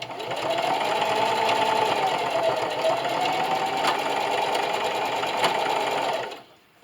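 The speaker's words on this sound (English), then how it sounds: "And just go ahead and backstitch a couple times right there also." A sewing machine stitches through fleece on a hat at a steady close drone, running without pause for several seconds before stopping while backstitching.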